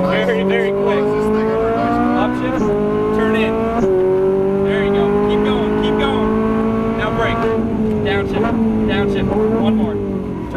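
A Ferrari 458 Italia engine revs hard on a track, climbing in pitch and dropping sharply at each upshift, loud and close throughout while people talk over it.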